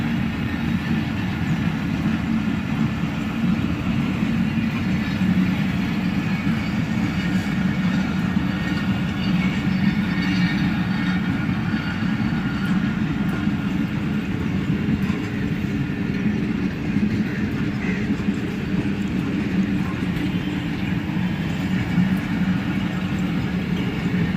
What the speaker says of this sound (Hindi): तो दोस्तों डाउन अभी बिजनेस ट्रेन तो जा चुकी है